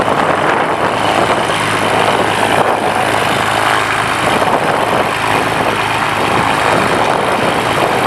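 A classic Bellanca 260 propeller airplane taxis with its piston engine droning loud and close, a steady, even roar with slight throbbing that holds throughout.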